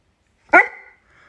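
A single sharp dog bark rings out close and loud, followed by a brief fading whine, as the dog quarrels over food near alpacas; no one speaks.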